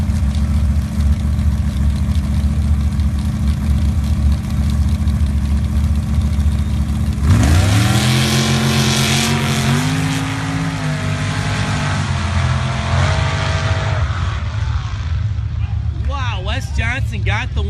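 Sand drag race cars at a season-opening drag event, starting with a loud, steady engine idle and rumble, then a sudden roaring rev that climbs in pitch. A voice talks over the engines.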